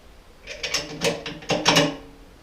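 Bolts being screwed up from underneath into a Champion generator during assembly, giving a run of close, dry metallic ratcheting clicks in short bursts with pauses between them.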